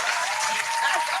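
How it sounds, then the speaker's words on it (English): Studio audience clapping steadily and fairly loud throughout a short burst, a dense wash of hand claps with no voices over it. "Can I get some damn claps, man?"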